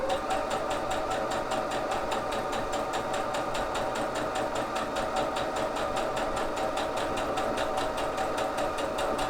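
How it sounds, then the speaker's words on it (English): Sewing machine stitches a frill in place, a steady, rapid mechanical whir with an even needle rhythm that runs close and unbroken throughout. "I'm just going to give it a little sew in a few places to keep the frill up"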